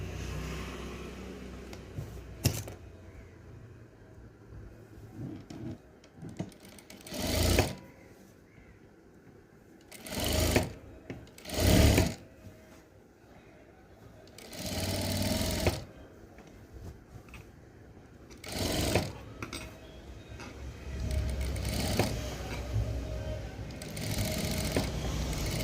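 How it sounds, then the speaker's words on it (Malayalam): An electric sewing machine stitches around a garment's neck in bursts, its rapid mechanical whirr starting and stopping several times with short pauses between runs. "ഇനി ഇതിൻ്റെ നെക്കിൽ നമുക്ക് തയ്ച്ചു കൊടുക്കാം."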